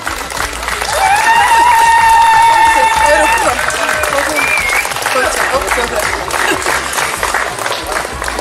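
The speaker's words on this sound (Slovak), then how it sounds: "dovolte mi, aby som veľkým potleskom privítala oca biskupa Monsignora Tomáša Galisa" A gathered audience gives a big round of applause to welcome a visiting bishop, dense clapping swelling and holding steady throughout, with voices and someone speaking over it.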